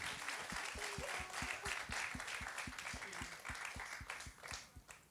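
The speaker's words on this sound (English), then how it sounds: "big round of applause for" A modest audience at a food and diaspora conversation event claps, with individual hand claps distinctly audible in a loose, uneven rhythm over several seconds, fairly quiet and with no talk.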